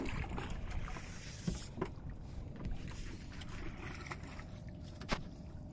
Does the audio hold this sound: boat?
yes